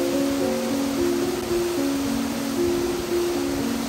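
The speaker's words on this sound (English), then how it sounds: "I was surprised to see how much water was flowing over the waterfall" Farmington Creek in Utah pours over its waterfall into a rugged bowl, a steady full-bodied rush of falling water heard close and unbroken throughout.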